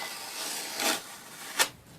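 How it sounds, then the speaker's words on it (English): A sticker peeled off a plastic Dollar Tree bathroom caddy gives two short, close rasping tears, one around the middle and a sharper one near the end, with quiet rubbing between. "I love when the stickers come right off."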